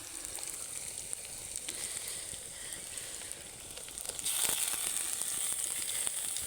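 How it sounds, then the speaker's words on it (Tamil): Squeezed chicken pieces for Pallipalayam chicken fry hit a hot pan with a steady, hissing sizzle that grows louder and brighter partway through, with no voices. "சிக்கனை புழிஞ்சு தான் போடுறேன் பாருங்கள்"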